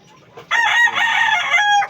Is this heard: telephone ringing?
no